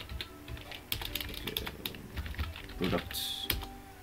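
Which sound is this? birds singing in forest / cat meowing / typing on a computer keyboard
typing on a computer keyboard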